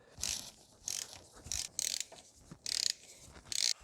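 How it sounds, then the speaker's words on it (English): A socket wrench with a small extension ratchets in six quick, separate bursts while undoing E10 bolts around the water pump on a W210 Mercedes E-Class diesel, close and clear, with short pauses between strokes. "with the E10 socket and a small extension, you can undo the bolts around the pump"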